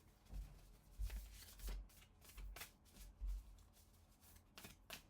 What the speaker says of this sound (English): Let's pull some of these heart cards.